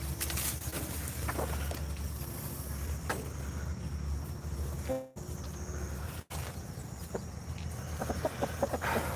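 Chickens cluck inside a mobile chicken coop, scattered and fairly close over a busy background rumble, with a couple of brief knocks partway through and a livelier flurry of clucks near the end.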